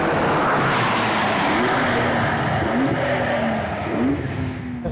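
A Porsche 992 Turbo S with a rear engine drives hard and accelerates, a loud, close engine roar with rising revs and quick gear changes that lasts the whole stretch.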